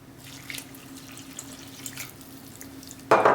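Faint clinks and stirring noises lead into a sudden close splash of water poured into a bowl of crispbread dough made with olive oil, near the end.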